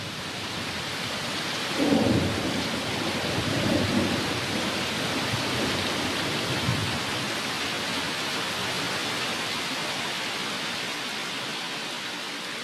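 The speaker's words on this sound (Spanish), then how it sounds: "Las lluvias son abundantes en esta región tropical durante los meses de la estación húmeda." Heavy tropical rain pours in a steady, dense wash during the wet season, with a low rumble of thunder rolling in near the start and fading back under the constant downpour.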